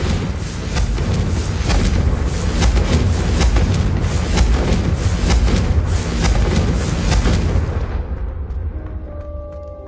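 A Confringo blasting spell explodes in Hogwarts Legacy, a sustained loud roaring, crackling burst that rumbles for several seconds before abruptly dying away into a quieter tonal hum.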